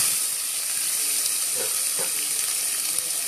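Green chillies and onion drop into hot oil already crackling with mustard seeds, curry leaves and cumin for an egg gravy, making a constant bright hiss of sizzling with a few soft splutters, close and without speech.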